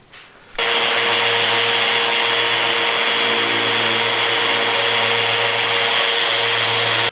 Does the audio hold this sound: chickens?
no